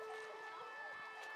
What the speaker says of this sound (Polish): Wyje druga syrena.